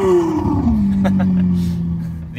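A simulated Lamborghini 6-liter V12 from a free app plays through a car's speakers: a loud, steady engine drone that falls in pitch as a rev settles back down, with a slightly artificial quality.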